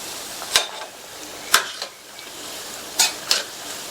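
Lentil fritters (paruppu vada) frying in hot oil with a steady low sizzle, broken by four sharp clinks and scrapes of a ladle as the fritters are flipped in the pan, close by.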